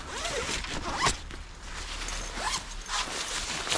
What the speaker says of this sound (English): So it zips down,